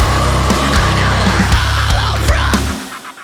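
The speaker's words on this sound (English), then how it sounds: "I came up with this idea to pitch the guitars an octave down for this section" Distorted rock guitars pitched down an octave play a heavy, dense riff at full loudness with sharp, evenly spaced hits, then cut off and fade in the last half-second.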